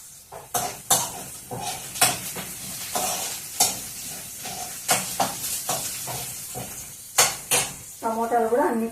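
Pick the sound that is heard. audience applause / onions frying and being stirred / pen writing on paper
onions frying and being stirred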